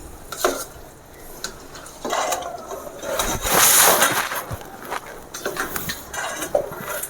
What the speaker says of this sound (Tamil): நல்லா கிண்டி விடணும் இந்த நெய் எல்லா இடத்துலையும் நல்லா பறைய வர அளவுக்கு நம்ம கிண்டி விட்டுக்கணும்